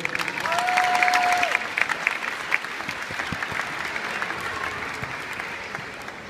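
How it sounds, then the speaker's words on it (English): Spectators at a gymnastics display applaud young gymnasts on the floor, with a loud wash of clapping at first that thins into scattered claps, and a whistle-like tone sounding briefly near the start. "we should give them a big, big round of applause for being on the floor"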